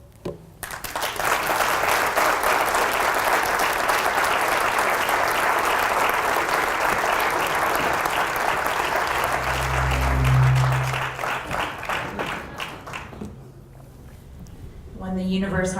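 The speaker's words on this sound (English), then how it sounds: "Thank you so much for that warm applause." Warm audience applause after a talk on diverse democracy and schools, a long loud sustained wave of clapping that swells, then tapers as a voice begins speaking near the end.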